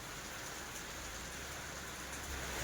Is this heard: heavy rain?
yes